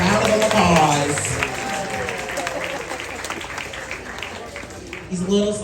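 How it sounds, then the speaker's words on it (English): An audience at Grant's Farm animal show applauds, a broad crowd clapping that swells and then fades under a loud voice speaking over it. "Give him a round of applause."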